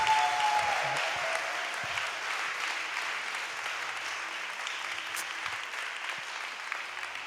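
A church congregation at a French-language testimony service applauding, with a sustained, even wash of many hands clapping at moderate distance throughout and a few faint voices underneath.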